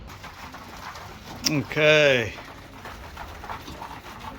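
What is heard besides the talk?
pigeons cooing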